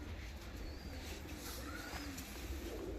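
Ornamental costume pigeons coo softly in a quiet space, a few low, faint calls rising and falling over a low background rumble, with no talk.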